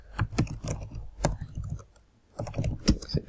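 Someone types on a computer keyboard nearby in quick clusters of key taps, pausing for a moment before a second burst.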